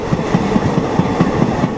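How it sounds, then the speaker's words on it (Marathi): A four-coach Indian Railways passenger train runs along the rails near the Pakistan border, its wheels clattering over the track joints in a steady, repeating clickety-clack under a continuous rumble, heard close up with no talk. "फक्त चार डब्यांची ट्रेन आहे"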